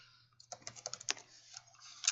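Brief burst of typing on a computer keyboard as a layer name is entered, light close key clicks in an uneven quick rhythm over a low steady hum, quiet overall.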